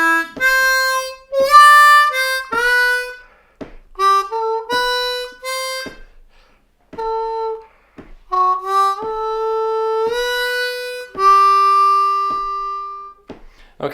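A blues harmonica lick on a C harmonica, played as short reedy notes and held bends in separate phrases with brief pauses between them. It sounds close and clear, with no talking over it.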